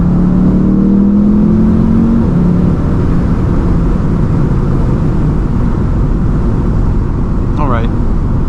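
A 2019 Audi TT S pulls hard, its engine a loud, steady drone heard from inside the cabin, with a brief rising tone early on.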